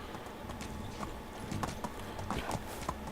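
Horse hooves clip-clop in a steady walking rhythm in the Medieval Dynasty video game, a moderately close series of light hoof strikes with no talking over them.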